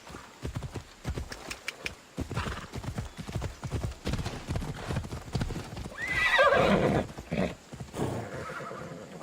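Horse hooves clip-clop in a steady riding rhythm in Assassin's Creed Odyssey, close and prominent, with a brief whinny-like burst partway through and ambient game sound underneath.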